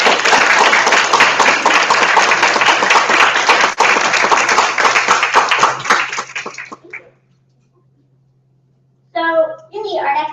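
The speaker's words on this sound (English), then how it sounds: "So again, a round of applause." A conference audience gives a loud, sustained round of applause with dense clapping for about seven seconds, fading into silence before a few brief voices start up near the end.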